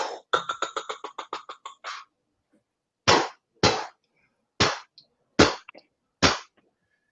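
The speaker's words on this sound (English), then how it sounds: "Fireworks." Fireworks going off: a quick string of crackling pops at first, then a pause and five or six separate sharp bangs spaced about a second apart, close and loud against silence.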